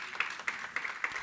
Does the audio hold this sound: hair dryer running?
no